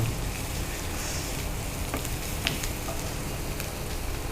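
One small onion frying in a pan, a quiet, even sizzle with faint crackles and tiny pops scattered throughout, heard close and without talk.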